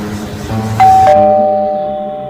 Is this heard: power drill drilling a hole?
no